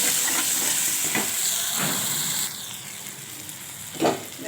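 Ginger and spices fry steadily in a pan for a Bengali-style spicy puti fish curry, a continuous broadband sizzle with a few soft stirring scrapes that quiets partway through, then a brief louder clatter near the end.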